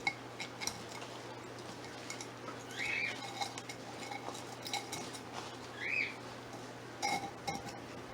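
A knife scrapes and clinks against a pot while digging a horsehead philodendron out for repotting: faint, scattered metallic ticks and scrapes with a few brighter clinks, quiet and close.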